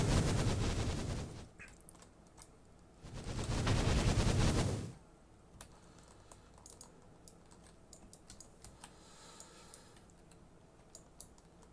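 Modded guns firing in the Minecraft modpack Enigmatica 2 Expert: two loud, dense bursts of rapid fire, each lasting a second or two, then sparse clicking and ticking with no voices.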